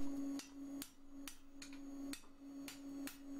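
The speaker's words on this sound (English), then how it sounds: "Otherwise you can end up hitting it and it's going to twist because you're not actually hitting it straight on the anvil." A hammer strikes a tapered bar on an anvil in a smithy, ringing with about eight crisp, close metallic blows in an uneven rhythm, each leaving a sustained bright ring.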